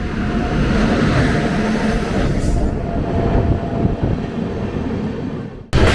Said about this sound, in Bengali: ট্রেন চলছে দুর্গাপুরের পথে